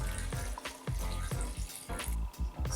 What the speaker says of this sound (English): And fill it up with water.